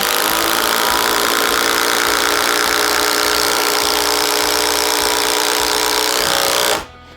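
A Bosch Freak impact driver hammers a 5-inch Spax screw into wood, a loud continuous rattling impact buzz lasting several seconds before stopping abruptly.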